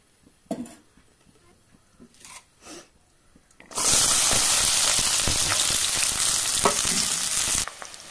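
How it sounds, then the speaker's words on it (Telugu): An egg dropped into hot oil in a pan, a few soft knocks first, then a sudden loud, steady sizzle that hisses on for several seconds before cutting off. "సో ఇక్కడ ఎగ్ ఫ్రై చేసుకుంటున్నాను"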